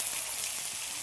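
Tomato cooking down in hot oil with green chillies for a Bengali rohu fish curry, as turmeric and chilli powder go in; a steady, close sizzle and fry hiss fills the short moment with no talk.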